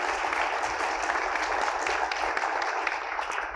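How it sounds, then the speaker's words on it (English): Audience at an MIT faculty panel discussion applauding the panelists, a steady wash of many hands clapping, moderately distant and even throughout. "let's have a round of applause for the panelists"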